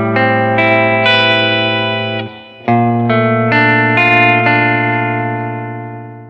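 An electric guitar on the bridge pickup position plays sustained, bright, twangy chords in two phrases with a brief gap, the notes ringing long and slowly fading at the end.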